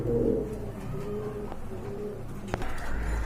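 Racer and white Holy Cooper pigeons at a pigeon farm coo steadily up close, a low throaty rolling murmur that carries on without pause from start to finish.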